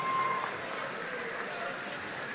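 An audience claps continuously at a political gathering, forming an even, dense wash of applause that holds steady at moderate volume throughout.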